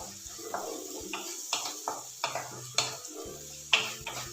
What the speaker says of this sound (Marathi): एक दीड मिनिट मसाला चांगल्या तेलामध्ये परतून घेतलेला आहे